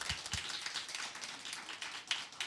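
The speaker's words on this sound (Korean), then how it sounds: "박수로 환영합니다." Scattered clapping from a congregation welcoming a guest at a Christmas thanksgiving church service, a steady patter of hand claps at moderate level with no talk over it.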